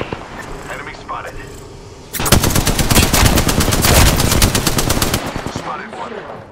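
Automatic weapon fire in the video game Apex Legends bursts out after a quieter stretch, a loud, rapid continuous stream of shots lasting about three seconds before fading.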